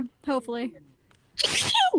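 A single sharp, noisy sneeze bursts out during a lively podcast conversation, following a stretch of people talking and landing loud and close.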